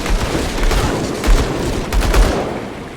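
Pistol gunfire in the action RPG Grim Dawn Definitive Edition on Xbox Series X, a dense, rapid volley of booming shots with two heavier bursts standing out.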